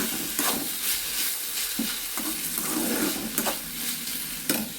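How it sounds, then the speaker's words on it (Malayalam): Tomatoes and shallots sauté in a pan for a quick curry, with a continuous soft sizzle broken by repeated scraping stirs of a spoon against the pan. No one speaks. "ചെറിയ ഉള്ളിയും കൂടെ ആ കൂടെ ഇട്ടിട്ടുണ്ട് കേട്ടോ. നമ്മുടെ ഇപ്പുറത്ത് നമ്മുടെ തക്കാളിയൊക്കെ വഴണ്ട് വരുന്നു."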